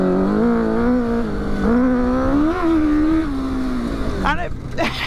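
A 1000cc engine fitted to a tuk tuk, heard up close while riding, drones steadily with rising and falling revs across the whole stretch, ending in a couple of sharper throttle blips.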